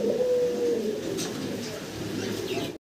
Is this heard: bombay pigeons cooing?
yes